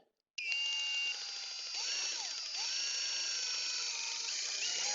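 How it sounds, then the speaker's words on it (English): A drill drives a rope lift, starting abruptly and holding a steady high whine close by, with its pitch shifting slightly as it runs. "we'll just insert the drill, start the lift"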